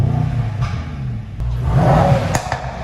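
A 2021 Mercedes-AMG E63 S engine turns over and revs in short, rising pulls with a brief catch mid-way, a loud close-range rumble and whir with no talk.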